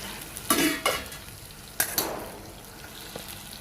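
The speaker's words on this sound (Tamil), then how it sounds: "நல்லா எண்ணெயில் வதங்கணும்." Garlic and tomato sauté in oil in a pan with a faint, steady sizzle. Several sharp scraping stirs of a spoon against the pan break in at intervals.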